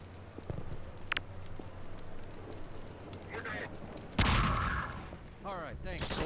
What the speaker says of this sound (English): I throw a grenade from down here